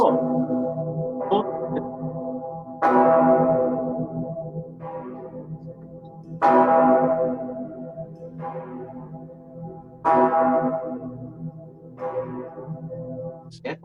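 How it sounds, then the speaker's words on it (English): Large church bells ring in heavy, resonant strikes every few seconds, each peal swelling loudly and then fading into a lingering metallic hum before the next. "It's bells, Russian Orthodox church bells."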